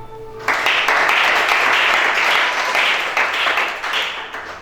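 A church congregation breaks into sustained applause after a brief quiet lead-in, dense and loud clapping that swells and slowly eases over several seconds.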